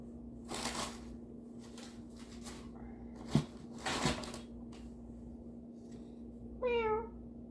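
A short, clear meow near the end, after a few faint rustles and taps against a quiet, humming background.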